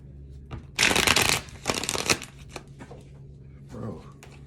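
Tarot cards are shuffled by hand, with one loud riffling burst and then several shorter, softer shuffles and taps close to the microphone, mixed with faint background sounds.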